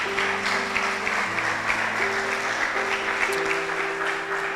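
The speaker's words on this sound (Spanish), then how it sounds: "denle ese aplauso al Señor" A church congregation applauds steadily for several seconds while sustained organ or keyboard chords hold underneath, the clapping forming an even, moderately loud wash.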